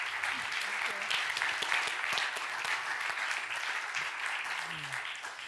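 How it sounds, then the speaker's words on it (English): A forum audience applauds a panel on education and innovation with sustained, dense clapping that holds steady and fairly loud throughout, with faint voices beneath it. "A big applause for our panel."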